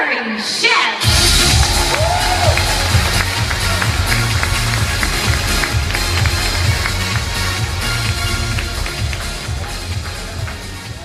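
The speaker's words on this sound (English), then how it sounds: "please give a big round of applause to ASUS Global Chief Executive Officer, Mr. Jerry Shen." Loud, sustained applause and cheering from a large audience at an ASUS Zenfone 4 product launch in a mall venue, a dense continuous roar after a brief quiet start, with no talk over it.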